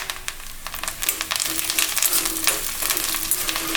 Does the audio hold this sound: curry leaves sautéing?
yes